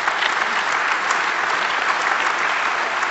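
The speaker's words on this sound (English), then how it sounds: "I think that deserves a round of applause for these courts." Dense, sustained applause from a large conference audience honoring the courts, loud and even throughout, with no gaps or voices standing out.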